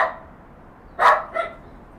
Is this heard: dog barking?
yes